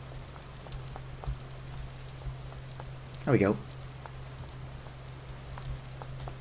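Rain falls steadily in the Vintage Story survival game as a soft, even patter under a low hum. A brief swooping chirp cuts in midway, and a voice speaks briefly.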